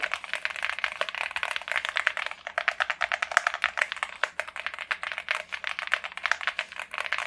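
Steady, fast typing on a Yunzii AL65 mechanical keyboard, its switches and spacebar clacking in dense, even bursts with no voices; the keystrokes sound close but fairly quiet.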